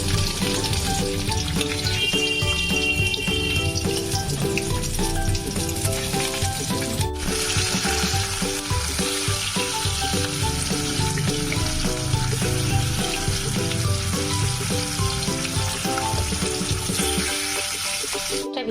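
Fish frying in hot oil in a pan, with a steady, loud sizzle running throughout, brief clatter near the middle, and a faint voice now and then.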